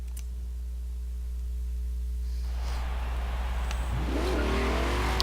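A tuned Corvette in the Forza racing game idles with a steady low hum, then revs up hard midway and builds into a loud, rising engine roar with a brief screech-like sweep near the end.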